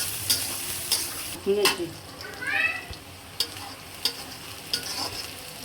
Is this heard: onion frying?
yes